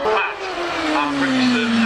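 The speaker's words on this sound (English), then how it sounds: "Listen to that lovely V6." A V6 race car climbs the Harewood hillclimb course, its engine holding a loud, steady high-pitched note with a slowly falling pitch as it passes, under faint commentary.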